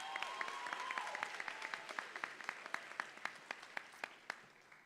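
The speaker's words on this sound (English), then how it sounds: "Give yourself a round of applause." A university convocation audience applauds itself, starting as a dense burst of clapping that thins into a few sharp, isolated claps as it dies away.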